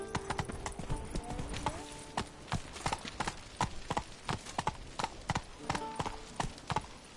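A horse gallops in The Witcher 3: Blood and Wine, rapid rhythmic hoof clip-clops up close with faint game music and effects behind, continuing steadily throughout.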